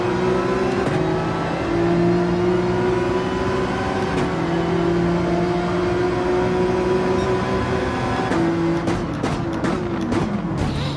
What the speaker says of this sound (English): The flat plane crank V8 on that means that it's a high revving V8 race engine